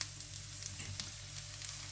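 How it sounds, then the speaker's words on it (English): Onions sizzle steadily in a small frying pan, a continuous close hiss of frying with faint scattered crackles and a few soft stirring knocks, no voices. "fry off onions, carrots and garlic for about 7 minutes"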